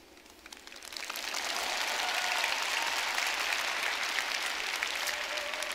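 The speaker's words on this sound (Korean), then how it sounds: "박수 쳐달라고 떼쓰고 있지 않습니까?" Audience applause swells within the first second and holds as a dense, steady clapping from a large crowd, filling the rest of the stretch without pause.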